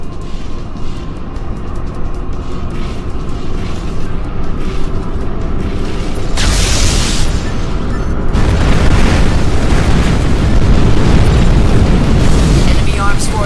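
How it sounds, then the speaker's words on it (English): Arms forts being destroyed in the Armored Core 4 video game: heavy rumbling explosions that build into a loud, sustained roar with bursting blasts. A voice speaks over the din in the early part. "Enemy arms forts have been destroyed"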